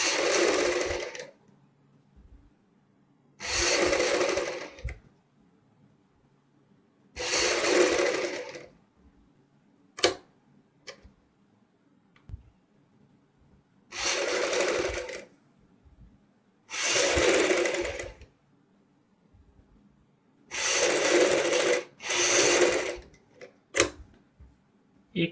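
A sewing machine stitches lace around the curved back neckline of a blouse in about seven loud, close bursts of rapid whirring, each lasting a second or two and separated by near-silent pauses.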